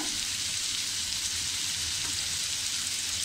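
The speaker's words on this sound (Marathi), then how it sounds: "अगदी आपल्याला हा लालसर कांदा परतून घ्यायचा आहे." Browned onion with garlic cloves and ginger sizzling in a pan for paneer masala makes a dense, even hiss of frying, constant and close throughout.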